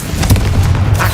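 A Confringo blasting spell goes off in a Harry Potter video game as one loud, deep, booming explosion that rumbles briefly and sits close up, with no voice over it.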